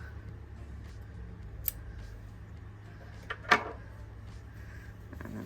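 Scissors snip through a yarn tail while finishing a crochet heart bag: a faint click early on, then a quick, crisp double snip near the end against a quiet room hum.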